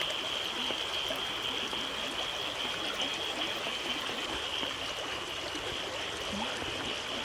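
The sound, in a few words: floodwater flowing over road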